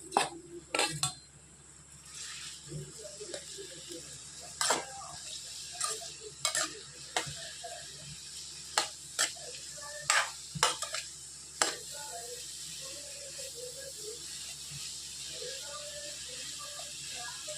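Onions with salt cook in a pan for egg curry: a soft steady sizzle runs underneath while a spoon scrapes and clinks against the pan in irregular, sharp strokes, fairly faint overall.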